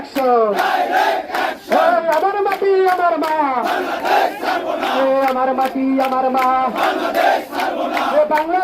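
Crowd of protesters chanting slogans in unison at a rally outside the central Shaheed Minar in Nilphamari, Bangladesh, loud and rhythmic with voices rising and falling in repeated call-like phrases throughout.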